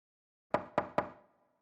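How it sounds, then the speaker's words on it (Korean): Three sharp knocks on a door in quick, even succession, close and crisp, with a short decay afterward and no voices, used as an audiobook sound effect. "문을 두드리니"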